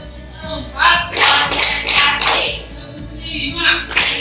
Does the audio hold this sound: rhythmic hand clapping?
yes